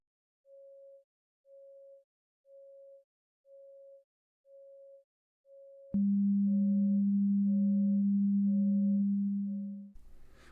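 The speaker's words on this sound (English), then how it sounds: "And what about a 250 Hertz background noise?" Evenly spaced beeps of a pure 550 Hz test tone play alone at first. A steady, low 250 Hz masking noise then joins, and the beeps stay audible above it until both fade near the end.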